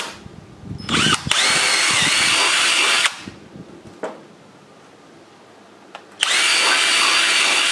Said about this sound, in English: Larger drill bit and enlarge it to the size of my rod.